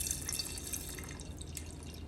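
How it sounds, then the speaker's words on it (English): Strawberry guava lemonade is poured over a generous amount of ice, giving a steady liquid trickle and splash with bright dripping and clinking accents, close and unbroken, without speech. "I'm going to go ahead and start pouring the strawberry guava lemonade."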